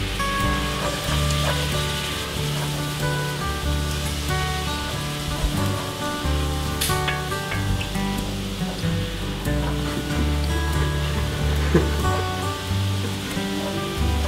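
Lardons sizzle steadily in a pan with oil, basil and sun-dried tomatoes, a continuous close crackling frying hiss under background music.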